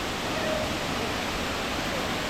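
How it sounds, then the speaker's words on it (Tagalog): The Goa Raja waterfall in eastern Bali roars as a dense, steady wash of falling water, loud and unbroken throughout. "this is the waterfalls"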